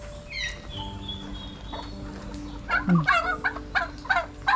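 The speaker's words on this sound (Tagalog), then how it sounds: "Itong mga pabo na to, dyan yan sa kapitbahay." Several turkeys gobble in quick, bubbling bursts toward the end, fairly close, after quieter bird calls and outdoor background noise.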